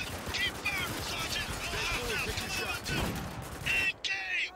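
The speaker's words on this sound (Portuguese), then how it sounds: "Ah, estão dando tiro de 12 em mim aí" Shotgun blasts in the video game Spec Ops: The Line, a rapid string of loud gunfire bursts and impacts amid chaotic combat noise, with someone talking over the shooting.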